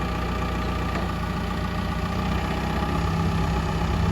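A Komatsu FD25-11 forklift's four-cylinder diesel engine idles steadily and loudly up close, a constant low rumbling chug with no talking.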